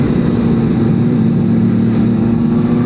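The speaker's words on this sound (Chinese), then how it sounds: "其实这个发动机挺平顺的" A CFMOTO 500SR sport motorcycle engine running steadily on a race track, a loud, smooth, continuous drone with no talk over it.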